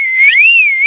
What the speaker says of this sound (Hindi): फिर प्यारे लाल जानवरों की तरफ सीटी बजने लगता